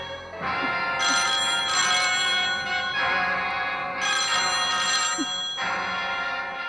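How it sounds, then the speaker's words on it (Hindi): A telephone rings inside a house in an old Hindi film scene. It gives steady repeated bursts of bright electronic ringing, evenly spaced, alone and at moderate volume. "फोन"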